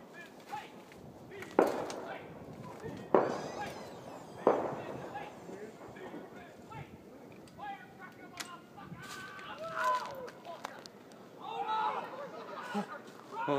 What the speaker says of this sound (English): Oh, those firecrackers.